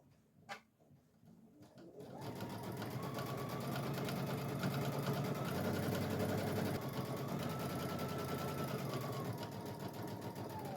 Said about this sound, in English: Now we're going to go back to the machine. We're going to use 1/4 of an inch, and we're just going to top stitch this all the way around